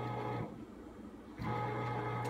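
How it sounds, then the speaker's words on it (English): Bread maker kneading wheat bread dough, a steady mechanical motor drone with a low hum that dips for about a second and then resumes at full strength, close and alone. "That is the sound of my bread maker mixing my bread."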